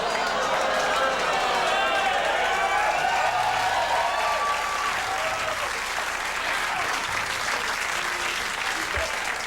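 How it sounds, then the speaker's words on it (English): A studio audience reacts loudly and steadily, a mix of shocked crowd noise and sustained applause filling the whole stretch without pause. "Always my favorite crowd reaction, horror blending into acceptance"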